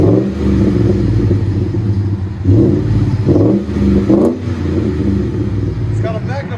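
A 2013 Ford F-150 FX4 with a 5.0L Coyote V8 and Magnaflow performance exhaust rumbles steadily up close, with several swells of revving throughout and a person talking over the engine.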